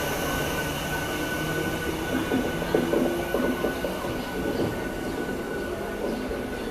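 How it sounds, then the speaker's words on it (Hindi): Electric push-pull locomotive of a heritage tourist train near Vadodara station, giving a steady rail rumble with a brief metallic wheel squeal rising midway, fairly close. "ये रहा भाई इसका पुश पुल वाला लोकोमोटिव।"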